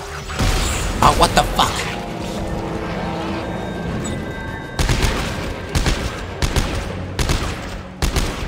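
Burst-fire gunfire from Dead Space 3, short clustered volleys cracking out in the second half after a quieter stretch of mechanical rumble, loud and close with no speech.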